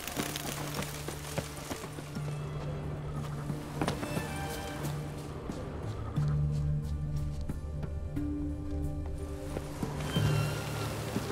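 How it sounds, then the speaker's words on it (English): Horse hooves clip-clopping at a slow walk in the Witcher 3 video game, soft steady steps under a bed of ambient game music with occasional louder thuds. "That horse goes slowly."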